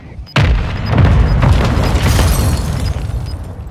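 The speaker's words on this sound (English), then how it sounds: "I do have a mortar. Requesting fire mission." Mortar strike in the Warzone 2 video game: one sudden loud blast that rolls into a heavy rumbling boom with debris crackle, lingering for a few seconds.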